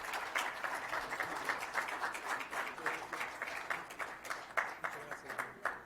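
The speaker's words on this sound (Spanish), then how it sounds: "démosle con un muy fuerte aplauso a nuestros invitados" Audience applause for guests at a business club event, steady clapping from many hands filling the room throughout without a break.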